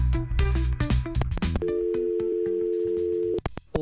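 A telephone call plays a ringing tone. Busy electronic tones come first, then a single steady tone holds for nearly two seconds before cutting off, loud and close.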